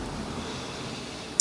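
Street traffic in a residential neighborhood, heard from a van parked at the curb on a rainy day: a soft, steady hum of a passing car, fairly distant, ending in a brief sharp click.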